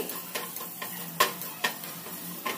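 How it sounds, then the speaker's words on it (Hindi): Carrots stir-fried in a pan for a multi-vegetable main course: a steady low sizzle broken by sharp scraping and clicking strokes of a spatula against the pan, several spaced stirs close up and with no talking. "तो फिर गाजर डाल दिया है मैंने अभी यहाँ पे और इसे अच्छी तरीके से फ्राई करेंगे इसे बीच में ऐसे हिलाना है"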